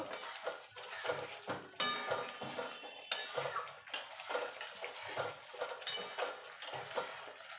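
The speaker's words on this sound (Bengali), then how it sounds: "ডিমগুলো দিয়ে মিনিট খানেক একটুখানে রান্না করে নেব" Eggs cooking in a pan with a curry base, stirred and scraped with a metal utensil: repeated close clinks and scrapes against the pan over a light background sizzle, no talking.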